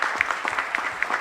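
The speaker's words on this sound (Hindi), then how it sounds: "एक बार जोरदार तालियों के साथ सर का स्वागत करिए।" An audience at a youth parliament competition in Bhopal applauds steadily, a dense wash of clapping hands from a hall crowd, brief and fairly loud with no voices over it.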